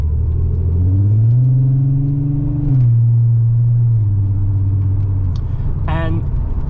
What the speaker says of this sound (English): let's first just drive it in the automatic mode